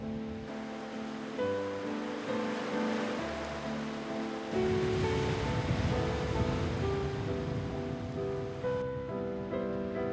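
Ocean waves wash against the seashore in a steady, continuous rush of surf, with no talk, while tonal music plays over them.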